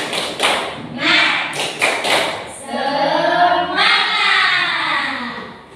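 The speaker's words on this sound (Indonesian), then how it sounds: "Tepuk semangat." A class does a rhythmic spirit clap icebreaker, with patterned bursts of hand clapping and chanting voices joining in, loud and close.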